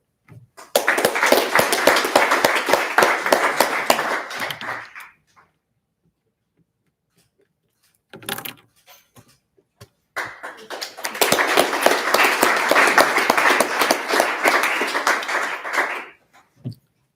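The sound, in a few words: audience applause at ceremony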